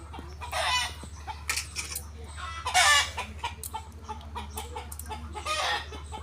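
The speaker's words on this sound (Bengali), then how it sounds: "মোরগটা দেখাবো" A rooster crows in loud, repeated bursts, mixed with clucking calls from the fowl, several prominent crows spread across a few seconds over steady low background noise.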